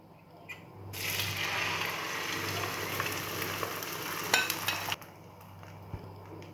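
Egg poured into hot oil in a pan for Ethiopian fetira bursts into a loud, steady sizzle lasting about four seconds, with faint clinks near the end before it cuts off.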